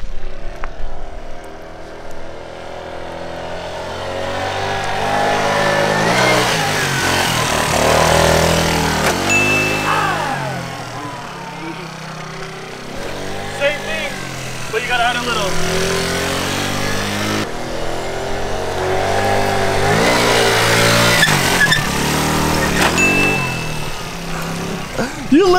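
Stock 50cc scooter engines revving hard during wheelie attempts, a buzzing whine that climbs and drops repeatedly, with overlapping engines and occasional outdoor chatter.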